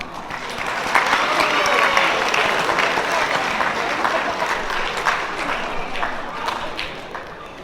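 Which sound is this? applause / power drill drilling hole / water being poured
applause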